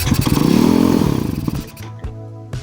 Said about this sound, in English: I got the 190 to start.